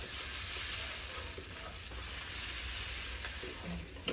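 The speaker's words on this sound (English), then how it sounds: "I'm gonna stir it on in so it don't get them clumps." Grits being stirred into heated water in a cooking pot, a steady soft scraping and swishing that runs continuously without pause and without talk.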